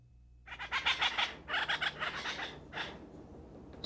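A white-headed woodpecker gives several bursts of quick, rhythmic rattling calls, fairly close and clear against a quiet background, with short gaps between the series.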